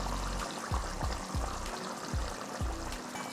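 Cracked egg poured into a simmering Tamil egg curry, with soft repeated glugs and splashes about every half second over a gentle bubbling hiss.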